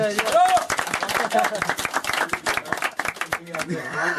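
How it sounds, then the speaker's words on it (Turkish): A festival crowd claps steadily under loud chatter and voices, the applause sharp and continuous for several seconds. "evet bir destek alkışlar"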